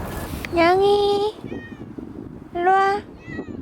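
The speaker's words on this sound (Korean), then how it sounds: "냥이" A cat at a windy solo campsite gives two clear, drawn-out meows a couple of seconds apart, close by, over a steady background rush of wind.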